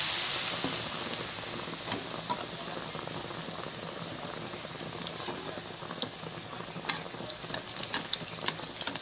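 Bread pakora fries in hot oil as a continuous bubbling sizzle, close and fairly quiet, with sharp crackles and pops scattered through it that grow busier toward the end.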